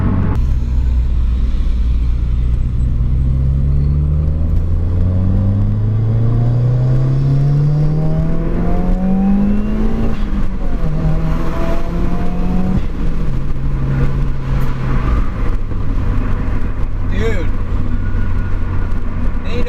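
Stage 3 Subaru WRX running flex fuel with a front-mount intercooler accelerates hard, its loud engine note climbing through gears with rising pitch sweeps and shifts, close and dominant with no talk.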